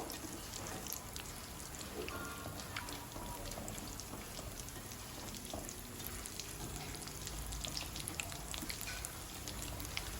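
Aloo bonda, battered potato fritters, frying in a pan of hot oil, giving a dense, even crackling sizzle that holds steady throughout without speech.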